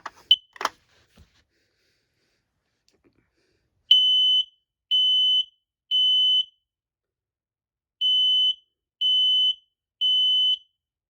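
P3010L smoke alarm without a voice feature sounding its piercing high-pitched beeps in two groups of three, evenly spaced and loud in an otherwise quiet room, after a few brief handling clicks at the start.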